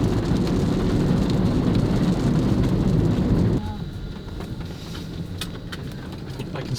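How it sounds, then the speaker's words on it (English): Late-afternoon rain in Saigon, Vietnam, makes a steady, dense hiss of falling water on city streets with a low traffic rumble beneath it, close and loud at first, then noticeably softer and thinner partway through. "Late afternoon, it started to rain."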